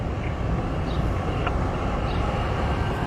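Chicago Blue Line train ride heard from inside the car, a steady loud low rumble with continuous wheel and track noise and no distinct events, no talk.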